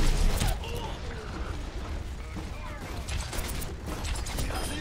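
Mechanical whirring and ratcheting of a turret in the video game Overwatch, steady and fairly loud through the whole stretch, layered with busy game effects and some voice.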